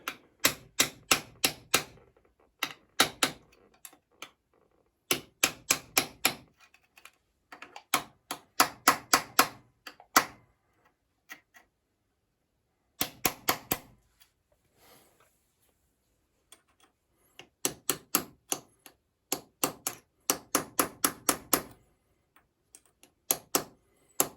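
A hammer strikes sharply to bend a tab washer on a Kawasaki Z1000 in quick clusters of metallic taps, with several rapid bursts separated by short silences, close and crisp.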